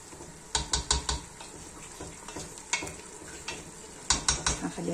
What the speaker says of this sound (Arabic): انا راح نضيف الطماطم المصبره وخلي كامل يتقلي